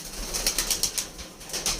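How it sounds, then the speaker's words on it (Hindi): Several rapid bursts of wing flapping as a flock of pigeons takes off and flies out in the early morning in Lahore, fluttery beats fairly close, with faint background hum. "ये जा रहे हैं, सब कबूतरियाँ पट्ठियाँ बाहर निकल रही हैं"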